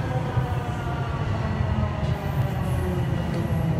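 Toronto subway train approaching Downsview Park station, a loud, steady rumble of wheels and motors with faint squeals riding on top, heard from inside the car without talk.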